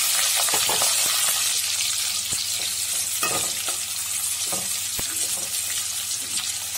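Onions and curry leaves sauté in hot oil in a pan for a Madurai-style brinjal tamarind curry, a steady close sizzle broken by several sharp stirring scrapes, with no voices.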